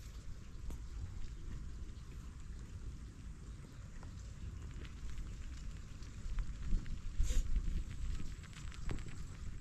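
Steady rain falls around a boat on the water, a soft continuous patter that swells slightly louder toward the end, with no voices.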